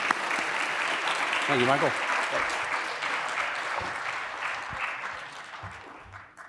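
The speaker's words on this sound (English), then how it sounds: "Let's give him a warm round of applause." An audience at an alumni association leadership conference claps in a dense, sustained round that is loud at first and then slowly fades, with a voice speaking briefly over it.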